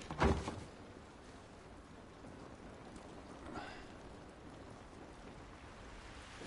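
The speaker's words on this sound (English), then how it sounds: "This rain ain't gonna do us any good." Steady rainfall in The Last of Us Remastered patters softly and continuously outdoors, faint and even, opening with a brief sharp knock before settling into a quiet, constant hiss.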